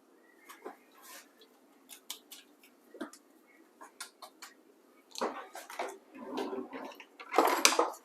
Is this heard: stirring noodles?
yes